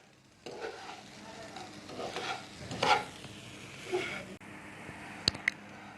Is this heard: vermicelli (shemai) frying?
yes